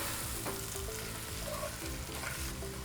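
A shrimp biryani base fries in a pot with a loud, continuous close sizzle and bubbling, while a utensil stirs and scrapes through it with soft knocks.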